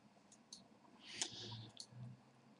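A few sharp computer mouse clicks, scattered and fairly close, sounding during website setup over a quiet background.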